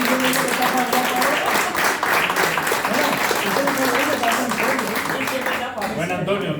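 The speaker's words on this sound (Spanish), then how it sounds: "Muchísimas gracias por ese aplauso" An audience applauds at a book presentation in Granada, with steady, dense clapping throughout and voices talking over it, tapering slightly near the end.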